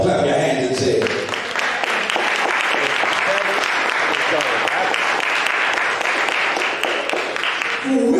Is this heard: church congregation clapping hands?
yes